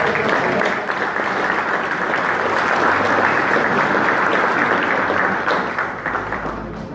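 Audience applause at a ceremony honoring named guests, a dense, steady wash of clapping that holds loud and even throughout before easing slightly at the very end.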